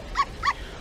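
A dog in a computer game gives two short, close barks in quick succession.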